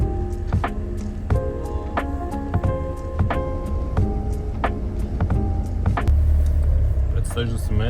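A car travels along a road toward the German border, its engine and tyre rumble steady and continuous throughout, with a voice talking over it.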